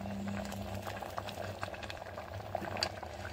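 Green dal kulambu bubbling in a pot, a steady low simmering burble with soft pops throughout, moderately loud and continuous with no talk.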